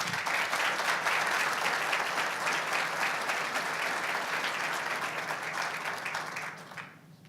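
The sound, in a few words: audience applause after a conference talk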